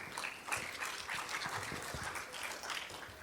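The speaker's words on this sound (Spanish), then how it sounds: "Le damos un fuerte aplauso y bienvenida al doctor Cajías" An audience at an academic lecture applauds to welcome Dr. Fernando Cajías, a faint, steady patter of many hands clapping with no voices over it.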